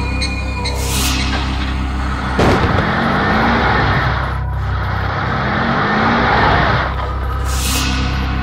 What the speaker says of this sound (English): car.